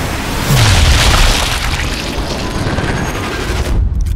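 An ammo cache explodes in the shooter game Sniper Elite 4, a loud, heavy boom that swells into a long rumbling roar with crackling debris before cutting off sharply near the end.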